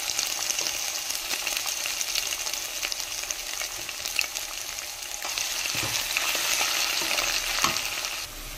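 Crushed ginger and green chili hit hot oil with bay leaves, cloves and small cardamom, producing a loud, continuous sizzle with stirring scrapes, close up and without speech.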